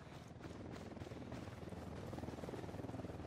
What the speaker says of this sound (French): Monte dans ton hélico toi